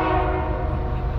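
A CSX manifest freight train heading westbound, its horn sounding loud and steady with a strong rumbling engine underneath throughout, close by and continuous with no talk.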